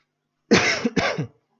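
A single harsh cough from a man with a sore throat, close and loud, in two quick bursts, with silence before and after.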